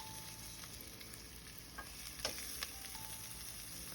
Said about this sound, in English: add sliced onions and saute them until they are golden brown